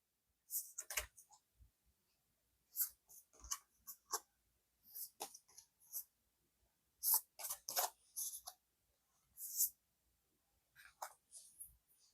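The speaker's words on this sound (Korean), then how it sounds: "A 선택지 카드를 먼저 오픈해 보겠습니다" Tarot and oracle cards being opened and laid out on a table in a quiet room, a scattered series of soft, close papery slides and taps with silent gaps between them.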